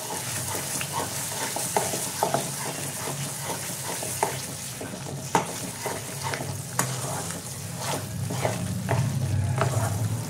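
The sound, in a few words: butter added to pan and stirred, frying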